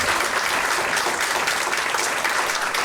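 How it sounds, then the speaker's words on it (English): Brisk applause from an audience at a cultural sharing event, dense hand clapping that holds steady and fairly close for a few seconds. "Let's give Emily a round of applause."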